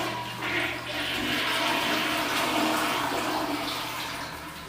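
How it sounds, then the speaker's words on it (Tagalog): A toilet flushes close by, a loud rushing swirl of water that holds steady for several seconds before easing slightly, with no talking over it. "ipa-flush na lang po natin siya"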